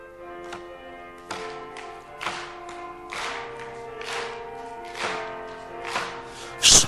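A church congregation claps in a slow, regular beat while singing praise in a worship service, with soft, evenly spaced claps under sustained music.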